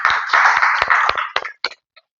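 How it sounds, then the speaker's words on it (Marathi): An audience welcoming a speaker at a farming talk claps loudly and densely, then the applause thins into a few scattered claps and stops. "पवार सरांचं जोरदार टाळ्या वाजवून स्वागत करू"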